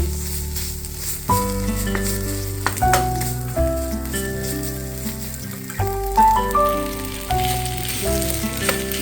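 Macaroni hitting a hot frying pan while cooking beef macaroni, a steady crackling sizzle running throughout beneath louder background music.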